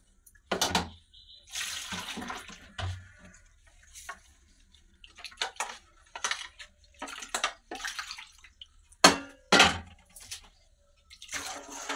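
Water used to rinse a bowl of gram-flour batter is poured into sour yogurt for a Bengali curd curry, heard as intermittent close splashes and pouring bursts with quiet gaps and small clinks between them, with no voices.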